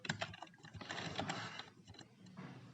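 Typing on a computer keyboard in an Ubuntu terminal while entering a Docker command, a quick run of soft, close key clicks in an irregular rhythm.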